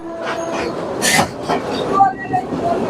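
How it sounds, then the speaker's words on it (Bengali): A commuter train rumbles past market stalls right beside the tracks near Narayanganj, a steady rolling roar with brief metallic squeals, close by, while people talk over it. "দোকানের একদম কোল ঘেসেই আমাদের ট্রেনটা যাচ্ছে"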